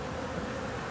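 Bees buzz during a removal job, a dense steady swarm drone holding close and continuous throughout.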